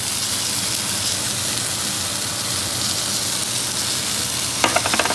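Garlic frying in oil in a paella pan gives a steady, close, even sizzle with a few sharper crackles near the end. No voices are heard.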